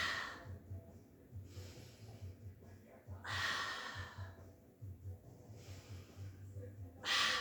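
Steady, rhythmic breathing during a Pilates mat workout, long audible inhales and exhales repeating close to the microphone at a moderate pace, fairly soft under a faint steady hiss.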